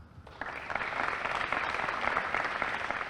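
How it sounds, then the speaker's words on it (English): Audience applause at a scholarship awards ceremony for a student receiving a four-year renewable award, steady clapping from a sizeable room, moderately distant and even throughout. "we give her a round of applause"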